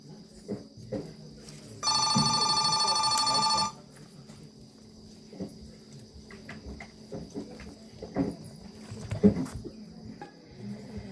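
A telephone bell rings in one continuous burst of about two seconds inside a home, loud and close, then quieter scattered household noises and faint chirping follow.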